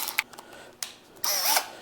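A Milwaukee M12 drill spins freely in a few bursts: two brief clicks or blips early on, then a louder whirring run of about half a second near the end.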